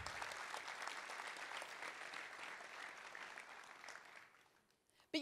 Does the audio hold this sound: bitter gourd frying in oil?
no